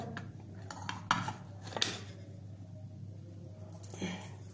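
A plate is set on top of a pan of pineapple sheera and the pan is flipped over, giving a few close, sharp metallic clanks and knocks over a low background hum.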